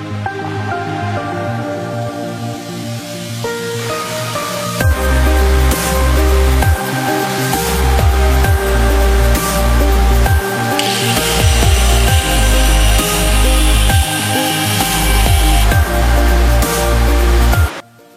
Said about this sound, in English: so next we'll be cutting the chain